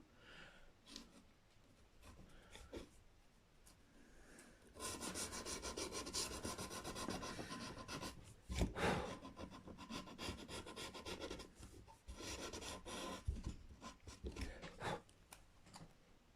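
A guitar nut for a parts Telecaster is polished with fine 400-grit sandpaper, making faint close rasping and rubbing strokes in sustained bursts with short pauses between them.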